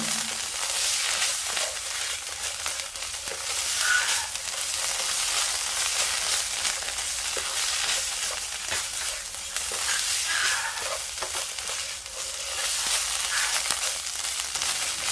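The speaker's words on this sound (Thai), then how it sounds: "ทีนี้ก็ผัดต่อค่ะผัดต่อไปเรื่อยๆ นะคะ" Khua kling pork pieces stir-fried in a hot pan, a steady dense sizzle with light scraping of the spatula running continuously and evenly throughout, close and fairly loud with no talking.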